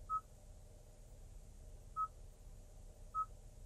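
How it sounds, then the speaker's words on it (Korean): Three short, faint, evenly spaced tones as a Hyundai Grandeur's automatic safety-check call dials out, heard over a low steady cabin hum. "안전운전 확인 전화도 하네요."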